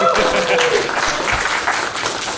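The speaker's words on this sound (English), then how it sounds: "can you please clap your hands?" A crowd claps hands together in a dense burst of applause, loud and sustained throughout, with a few voices mixed in.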